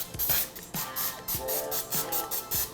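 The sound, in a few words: spraying a parchment-lined baking pan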